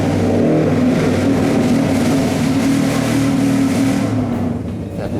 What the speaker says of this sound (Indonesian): Lihat motor apaan tuh, sember amat